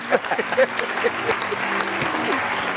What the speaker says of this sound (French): On applaudit pour les bosons aussi.